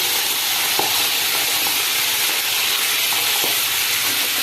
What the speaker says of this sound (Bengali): মাছের মাথা লাল লাল করে ভাজা হয়ে গেছে